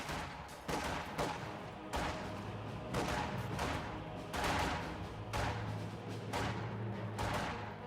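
Battle gunfire rings out in the World War II strategy game Company of Heroes, repeated sharp bursts of rifle and machine-gun fire every second or so over a continuous rumbling din, with no speech.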